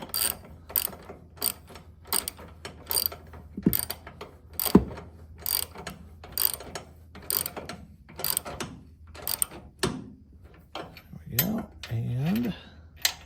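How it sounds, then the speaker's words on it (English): A ratchet with an extension and universal joint tightens bolts on a Nissan Hardbody minitruck, giving a close, steady series of sharp clicking strokes in short rhythmic bursts, with a brief creak near the end. "we're just going to use a ratchet with an extension, a little universal joint, and we should be able to get these tightened up"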